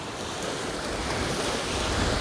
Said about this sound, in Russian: мы с вами слушаем море